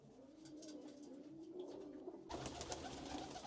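Pigeons coo softly in a low, drawn-out murmur, fairly faint and alone, before a sudden wash of broadband noise cuts in near the end.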